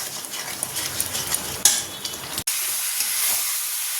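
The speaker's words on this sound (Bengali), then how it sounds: "এখানে মশলা কষতে বসিয়ে দিয়েছি" Spices being fried and stirred in a pan, a close, crackling sizzle with the scrape of a utensil, then a sudden sharper hiss after a brief drop midway.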